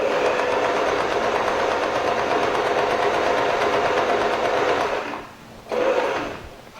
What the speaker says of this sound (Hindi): अगर आपको थोड़ी कच्ची सिलाई करनी है तो कच्ची सिलाई के लिए हम सेलेक्टर रखेंगे सी